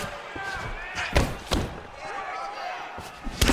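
Heavy impacts from kicks landing in the UFC 4 fighting game, a Bruce Lee versus Vicente Luque bout on PS5: several sharp, loud thuds and slams spaced irregularly over a steady crowd-like game backdrop.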